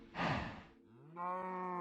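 Cows on a lava-trap cow farm in a video game give two separate moos, the first a broad, breathy low one and the second a steadier tonal lowing, both close and clear with no talk.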